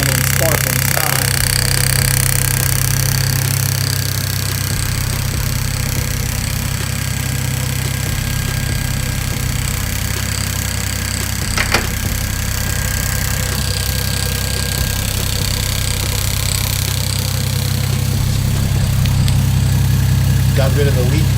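A Lexus SC300 engine runs at a steady idle on its first start, a loud, close, continuous hum with a faint knocking texture and a few brief clicks.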